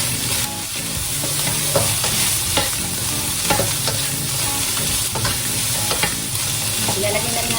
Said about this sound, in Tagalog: Malambot na po siya kaya igigisa na lang po natin.